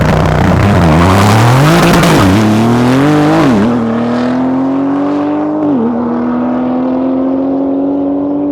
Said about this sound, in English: So here we have our 2014 Porsche 991 Turbo S, still leading the class this weekend